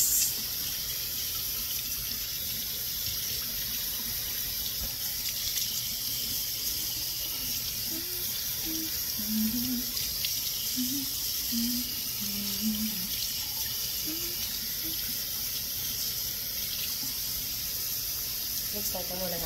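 Tap water runs steadily into a sink during a face rinse after an organic scrub, a constant close hiss lasting throughout, with faint murmuring voice or humming underneath.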